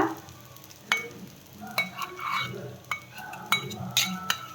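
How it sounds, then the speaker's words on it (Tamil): Butter melts in a pan for white sauce pasta, giving a soft sizzle under intermittent clinks and scrapes of a utensil stirring against the metal. "இப்போ பட்டர் போட்டுக்கிறேன்ப்பா"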